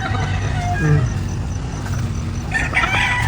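Chickens cluck and call on a small Filipino farm, several birds close by over steady outdoor noise, with a few clucks and a short crow-like call standing out.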